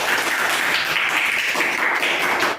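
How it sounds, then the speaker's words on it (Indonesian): A class of students bursts into dense, rapid group clapping for the 'tepuk tangan 100' cheer in a school lesson, a loud continuous patter filling the room with no talking. "Tepuk tangan 100."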